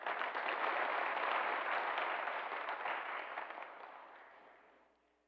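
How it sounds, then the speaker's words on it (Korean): A church congregation claps in thanks during a Sunday worship service, steady dense applause from a large crowd that holds for several seconds and then gradually thins and fades out. "감사의 박수 부탁드리겠습니다."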